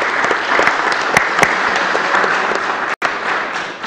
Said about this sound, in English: So just another round of applause for you.